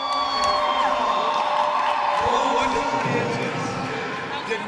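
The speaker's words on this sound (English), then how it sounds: "there was a big cheer there for the players on track warming up at the moment" A roller derby crowd cheers and whoops for players warming up on the track, a broad swell of many voices echoing through a large hall, with a nearby voice talking over it.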